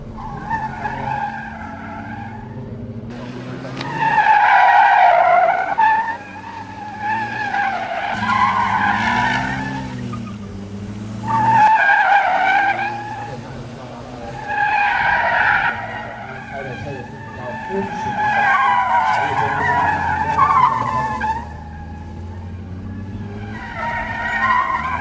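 Gymkhana cars, a black one and a silver one, skid around a course marked with barrels, with repeated sustained tire squeals and engine revs rising and falling in bursts while a commentator talks over them.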